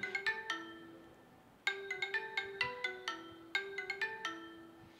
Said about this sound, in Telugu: సో మనకు రింగ్ అయితే అవుతుంది రింగ్ అయితే అవుతుంది